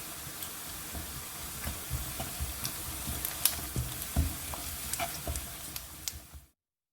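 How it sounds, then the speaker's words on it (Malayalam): Onions sautéing with salt in a pan, a soft continuous sizzle with intermittent scraping and stirring clatter, close and fairly quiet, ending abruptly in silence. "സവാള ഒന്ന് വേഗം വഴന്ന് കിട്ടാൻ വേണ്ടിയിട്ട് ഞാൻ കുറച്ച് ഉപ്പ് ചേർക്കുന്നുണ്ട്."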